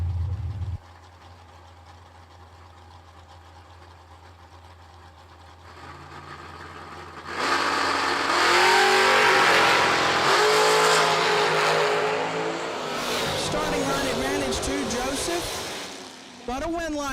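At an old-school bracket drag race, a GMC Sonoma and a dragster launch. A faint idle gives way to a loud, sustained roar of engines accelerating down the track, with an announcer talking throughout.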